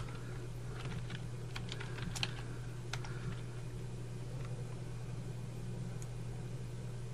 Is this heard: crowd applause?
no